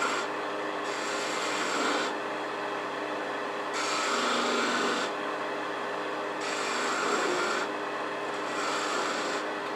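Skew chisel cutting V grooves into a wooden snowman ornament spinning on a lathe: a continuous hissing scrape over the motor hum, swelling and easing as the tool engages and lifts in repeated passes.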